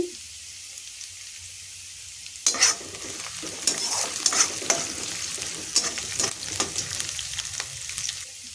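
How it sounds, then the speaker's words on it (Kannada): Ginger, garlic and green chillies frying in oil in a pan for egg fried rice, with quiet hiss at first, then loud spattering sizzle and sharp scraping stir strokes for the rest of the stretch. "ಇಲ್ಲಿ ಒಂದು ಬಾಣಲಿಗೆ ಎಣ್ಣೆಯನ್ನು ಹಾಕ್ಕೊಂಡು ಶುಂಠಿ ಬೆಳ್ಳುಳ್ಳಿ ಮತ್ತು ಹಸಿರು ಮೆಣಸಿನ್ಕಾಯನ್ನ ಹಾಕ್ಕೊಂಡು ಫ್ರೈ ಮಾಡ್ಕೊತಾ ಇದ್ದೀನಿ"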